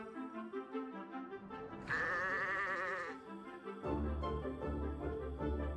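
A sheep bleats in the farm game Orwell's Animal Farm, with one wavering bleat rising over soft background music and a deeper animal grunt following. Nobody speaks.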